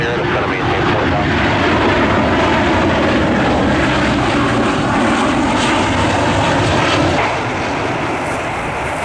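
An airliner passes overhead at Cleveland Hopkins airport, its engine roar broad, loud and steady for the whole pass and easing slightly near the end.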